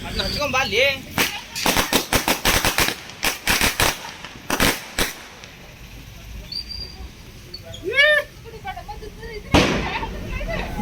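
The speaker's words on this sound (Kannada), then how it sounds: "ನಾವೆಲ್ಲರೂ ಕೂಡಿ ಪಟಾಕಿ ಹಚ್ಚಾಕ ಶುರು ಮಾಡಿದ್ವಿ" Diwali firecrackers go off at a house in Hubli in rapid bursts of sharp cracks and pops, some close together, then a lone bang later, with voices and a few whistling sounds in between.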